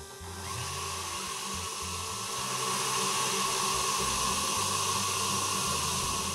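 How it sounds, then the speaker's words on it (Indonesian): An electric mixer running at high speed whips egg whites for gluten-free gingerbread cupcakes, giving a steady, whirring motor drone with a faint hiss that holds evenly and alone. "Masukin aja langsung putih telurnya semua. Kita kocok di kecepatan tinggi."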